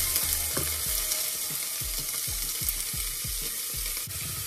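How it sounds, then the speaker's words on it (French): Two onions fry in a little oil in a saucepan, giving a steady sizzle with repeated low scraping stirs at a regular pace, close and fairly loud, with no voices. "On commence par faire revenir les deux oignons dans une casserole avec un peu d'huile."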